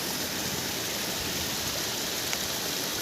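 Heavy rain falling as a dense, even hiss at moderate loudness, steady and unbroken with no voices.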